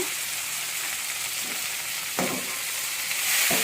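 Tomato pieces hit a hot pan of frying bacchali (Malabar spinach), giving a steady sizzle with brief stirring scrapes and a fresh burst of frying near the end, with no talking.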